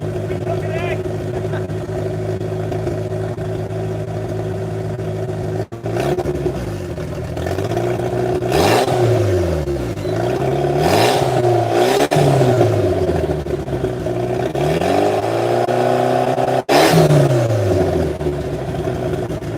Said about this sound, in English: I'm gonna rev it a little bit real quick.